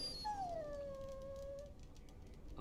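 A warhound in the Dragon Age Origins video game lets out a single drawn-out, high whimpering whine that falls in pitch, heard over a low background rumble.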